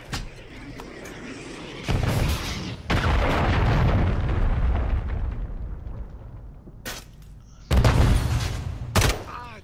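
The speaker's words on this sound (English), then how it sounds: "Friendly cruise missile deployed." Cruise missile strike in Modern Warfare 3, with loud booming explosions that hit in bursts and run on as rumbling blasts and crackling debris, followed by sharper bangs near the end.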